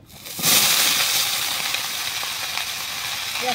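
Vegetables frying in a pan with spices tempered in hot oil for labra, a sudden loud sizzle bursting in after a quiet start and hissing steadily close by, fading slightly and rising again near the end.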